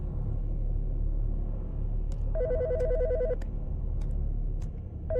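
A telephone rings in the video game Autopsy Simulator, a warbling electronic trill that sounds once in a short burst, set over a constant low rumble of background ambience.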